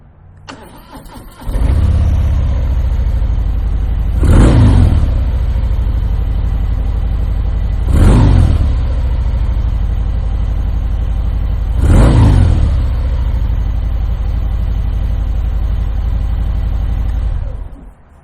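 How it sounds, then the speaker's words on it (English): Harley-Davidson FXDR with a Screaming Eagle exhaust starts up and settles into a steady, close, loud idle, broken by three distinct revs spaced a few seconds apart before the engine shuts off. "now this is going to be with the Screaming Eagle exhaust."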